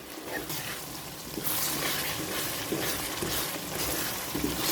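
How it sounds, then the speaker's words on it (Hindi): Minced beef keema fries in a pan with curry leaves and black cardamom, a steady close sizzle with soft stirring scrapes and no break. "अब इसको अच्छी तरह भूनना है।"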